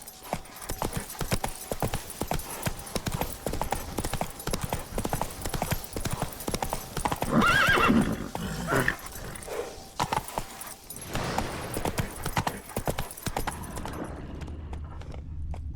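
Roach the horse gallops in The Witcher 3, a rapid, steady clip-clop of hooves carrying through the whole stretch with a jangle of tack, a brief louder burst midway, and the run ending in quiet near the close.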